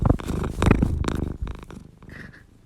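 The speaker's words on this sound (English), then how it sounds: "My cat's just purring right now" A cat purrs close by in a quiet indoor room, a low rumbling pulse that slowly fades toward the end.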